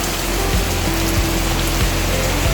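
Heavy rain pounds a tin roof over a house in a dense, steady roar, loud and unbroken throughout with no talking.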